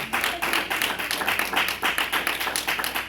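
A congregation at a Spanish-language church service claps in steady, rhythmic unison, many hands striking together at a brisk even beat, loud and close with no talking.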